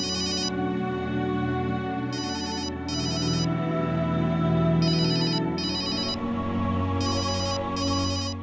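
A phone ringtone for an incoming call from an unknown number plays steadily, with a repeating bright chiming pattern in regular bursts over a sustained tonal melody, fairly loud and with no talking.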